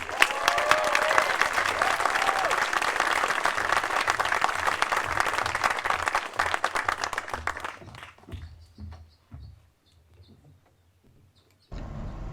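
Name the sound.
applause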